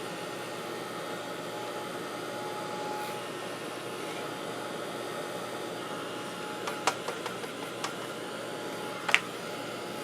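A heat tool blows hot air to dry paint on a craft booklet for permanent adhesive dots, making a steady broadband whoosh for the full ten seconds, with a few faint clicks and taps near the end.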